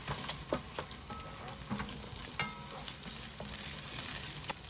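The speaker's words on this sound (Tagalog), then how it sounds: "Igisa ang sibuyas for a few seconds." Onion sautéing in oil in a pan while cooking shrimp sinigang, with a steady close sizzle and a few soft scraping strokes from a spatula, no voices.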